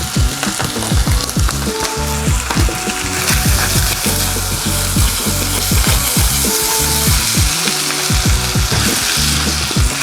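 Sausage ragu frying in oil in a pan, a loud close sizzle with frequent clicks and scrapes of a utensil stirring, continuous throughout with no talking.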